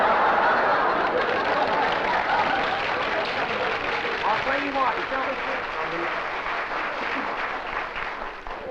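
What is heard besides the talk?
audience applause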